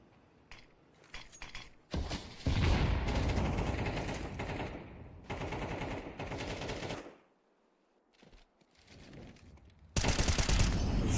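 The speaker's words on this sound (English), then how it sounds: "Nade being thrown in." Dense bursts of automatic gunfire and rapid shots in a competitive first-person shooter match, loud clustered volleys separated by brief lulls, with a grenade tossed in amid the firefight.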